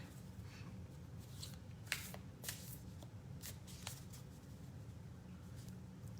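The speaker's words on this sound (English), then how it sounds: "I'm going to draw a card." A deck of playing cards being shuffled by hand before a card is drawn, soft riffling bursts and a few sharper snaps close by over a quiet low hum, with no talk.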